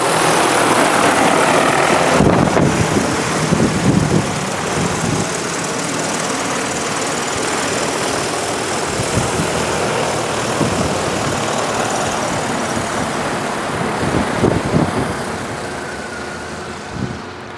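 A farm sprayer's engine runs loudly and continuously at a demonstration, a dense roar with rumbling low pulses that eases slightly toward the end.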